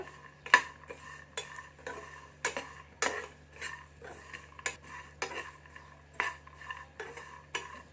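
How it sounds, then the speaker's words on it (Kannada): Metal utensil scraping and clinking against a pan in irregular strokes while frying grated coconut, with a steady low hum underneath; no voices. "ಒಂದು 30 ಸೆಕೆಂಡ್ ಈ ಥರ ಫ್ರೈ ಮಾಡಬೇಕು."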